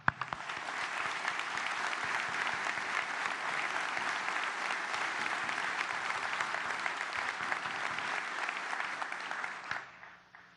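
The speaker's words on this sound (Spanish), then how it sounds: "quisiera pedirles un aplauso para el presidente saliente" Sustained applause from a room of governors and delegates at a plenary meeting, honoring the outgoing president: dense, even clapping for about ten seconds, then tapering off quickly, with no talk over it.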